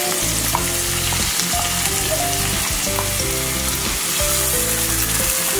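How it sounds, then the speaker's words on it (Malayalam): Finely chopped onion fries in a pan for a homemade veg pizza, giving a loud, steady sizzle with occasional stirring, close up and without talking. "ഇതിലോട്ട് തന്നെ നമുക്ക് ഒരു മീഡിയം ടൈപ്പ് സവാള, അത് പൊടിയായിട്ട് അരിഞ്ഞത്, അത് കൊടുക്കാം."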